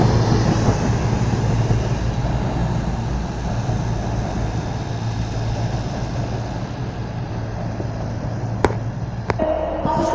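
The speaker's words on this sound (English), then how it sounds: "Next service then arriving is the cross country service to Newcastle. It's 220029." A CrossCountry Class 220 diesel unit, 220029, rolls into Darlington station on its run to Newcastle, with a loud steady engine drone and rumble throughout and a couple of sharp clicks near the end.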